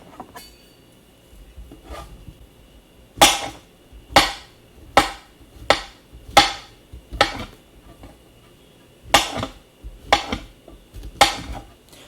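Onion being cut with a knife on a board, a series of sharp, separate thunks at an uneven pace with short gaps between them, each chop crisp and close, with no talking.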